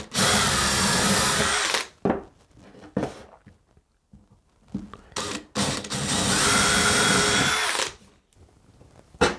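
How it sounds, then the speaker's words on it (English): A power drill bores into wooden back pieces for a small bedside unit, running in two long, loud, close-up bursts of steady whirring, separated by a few seconds of clattering and handling noises. "I'll drill the back pieces before I fit them,"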